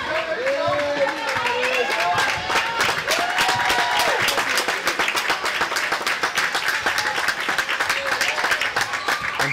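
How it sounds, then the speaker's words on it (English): Gravette fans at a high school basketball game against the Lincoln Wolves clap and cheer in a steady, rhythmic burst, with voices and sharp squeaks mixed into the crowd noise. "Fans here on the Gravette side cheering and clapping as with 1 minute remaining."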